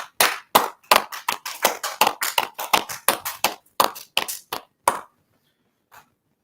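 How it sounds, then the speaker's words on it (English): A class audience applauds together at the end of a lesson, giving a burst of sharp hand claps at a steady rhythm. The claps trail off after about five seconds, followed by a couple of faint stray claps in near silence. "Let's clap it up."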